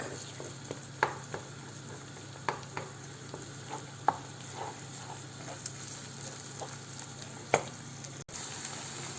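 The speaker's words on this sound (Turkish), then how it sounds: "Ben yumurtalarımı ekledim. Karıştırıyoruz bunu normal." Eggs stirred in a hot pan with loose sarmaşık greens, a steady soft sizzle broken by scattered scraping clicks of the utensil, close and clear with no talk.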